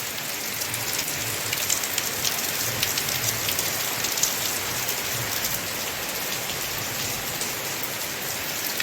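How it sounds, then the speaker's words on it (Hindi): A steady, loud downpour hisses continuously, with drops drumming on surfaces nearby and no talking. "देखिए मूसलाधार बारिश शुरू हो चुकी है।"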